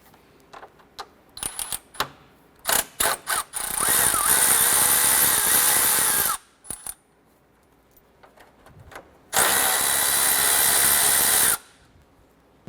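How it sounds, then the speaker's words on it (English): A power tool backs out two 10mm bolts from a 2008-2012 Honda Accord radiator cooling fan assembly, with two long loud whirring runs of the driver separated by close clicks and metallic rattles of the tool and bolts. "Remove these two 10mm bolts."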